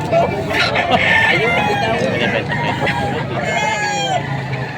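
A rooster crows over a busy outdoor background at a chicken market in Padre Garcia, Batangas, with people talking nearby throughout.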